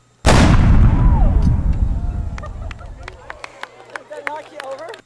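A single loud black powder cannon blast booms close by at an outdoor colonial festival and rolls away in a long fading rumble, followed by scattered chatter and voices in the open air.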